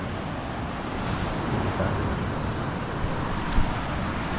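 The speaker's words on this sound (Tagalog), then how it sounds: "Sobrang lakas ng hangin." Strong wind gusts over a rough sea near a reef, with waves rolling in as a constant low roar and rumble of moderate loudness.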